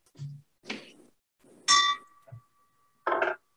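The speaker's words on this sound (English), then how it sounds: "I'm going to ring the bell to officially start our morning meeting." A bell is rung to open a Rotary Club morning meeting, with one clear ding that rings on as a sustained tone amid a few softer clanks and knocks in a quiet room.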